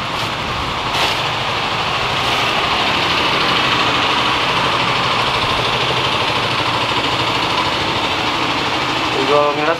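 A motorcycle engine idles with a steady, close drone during a COVID emergency-restriction raid in Tasikmalaya, while voices talk over the continuous rumble.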